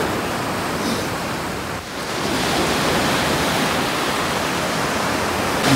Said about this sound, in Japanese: 波の音を聞きながら